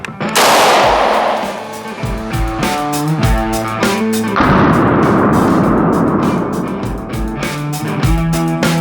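A 5.7x28 round fired from a P90 at body armor cracks out as a loud, sharp report near the start, followed by a second burst midway, both under a steady, tonal backdrop.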